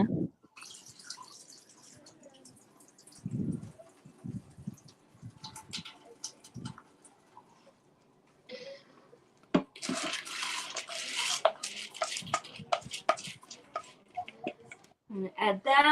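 Soaked peas dropped into stock and excess water poured off in a kitchen, with bursts of splashing and trickling water between quiet gaps, close and moderately loud, while people talk in the background.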